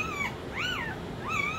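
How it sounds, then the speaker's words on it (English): A puppy whimpers in high, wavering whines, three short cries rising and falling, close by with faint background hiss. "I hear those puppy noises"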